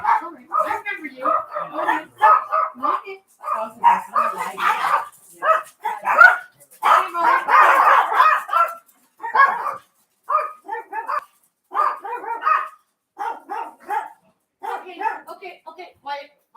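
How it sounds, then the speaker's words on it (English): Several dogs bark in a lively burst, repeated yaps and woofs in quick irregular volleys with a short dense flurry, loud and close indoors, with a person talking at times. "Hold on, guys. We got barking dogs."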